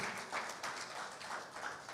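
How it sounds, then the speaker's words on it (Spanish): A church congregation claps for the Lord in a steady, fairly faint burst of many hands, with a rough pulsing rhythm and no voices standing out. "le damos un fuerte, fuerte aplauso al Señor"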